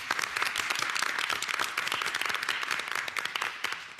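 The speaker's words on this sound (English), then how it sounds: "Another round of applause, guys." Audience applause at a City of Linden board of education meeting fills the room with steady, dense clapping that holds an even level from start to finish, with no talk over it.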